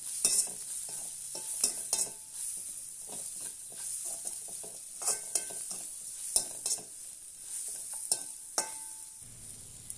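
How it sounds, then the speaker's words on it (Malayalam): Green chillies sautéing in a pan for a Kerala-style perattu, with a faint sizzle under intermittent scraping and clinking of a spoon stirring, quiet and close with no voices. "കുറച്ച് 4 പച്ചമുളക് എടുത്തിട്ടുണ്ട്, അതും കൂടെ ഇതിലേക്ക് ചേർത്ത് കൊടുക്കാം. നന്നായിട്ടൊന്ന് വഴറ്റി കൊടുക്കാം."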